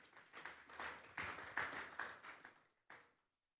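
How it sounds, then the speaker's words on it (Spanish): Scattered applause from a church congregation during a Sunday service, a few bursts of clapping rising and falling over a few seconds before trailing off. "Vamos a darle un fuerte aplauso al Señor."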